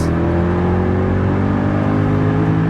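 Mercedes C63 V8 engine revving hard to 7,000 rpm in third gear, a loud, close, steady harmonic roar sustained throughout with no talk.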